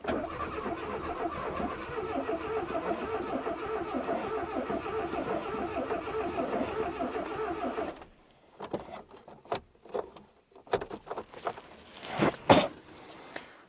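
A Renault car engine cranks steadily for about eight seconds without catching, then falls quiet except for a series of short clicks and clunks, with one louder burst near the end.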